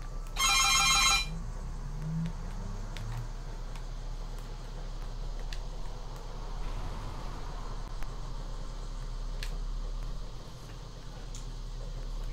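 A telephone rings briefly and loudly at the start in Call of Duty: Ghosts, a short electronic trill, then only low ambient game noise with faint ticks remains.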